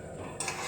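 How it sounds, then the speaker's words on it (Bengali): A spoon stirs fried eggplant into fenugreek greens in a pan, one brief close scraping stir over a soft sizzle. "দেখো খুব ভালো করে আমি শাকের সঙ্গে ভাজা বেগুনটা মিশিয়ে নিচ্ছি।"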